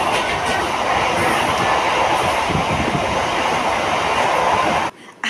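A passenger train rolls along its rails with a loud, steady rumble and rattling wheel noise, constant throughout before dropping away abruptly near the end.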